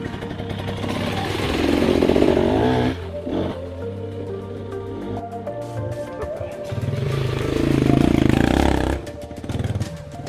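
A motorcycle engine idles and revs on a climbing run, rising in two loud surges with a low rumble and rattling clatter in between, close by.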